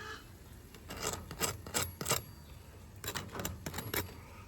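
Bites into crispy fried chicken give bursts of crunching, about a dozen sharp close crackles in two clusters with a brief pause between them, against a quiet room.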